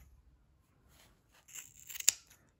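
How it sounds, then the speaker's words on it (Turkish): Scissors snip through bundled yarn threads while a pompom is made, a few quiet close cuts building to one sharp crisp snip near the end. "Bütün ipleri keseceğiz. Diğer tarafı da aynı şekilde katlı tam orta noktadan kesiyorum."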